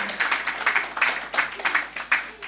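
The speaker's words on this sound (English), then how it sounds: "please let's thank her again with a round of applause" A small audience gives a round of applause after a talk, a sparse, irregular patter of clapping in bursts, fairly quiet and close.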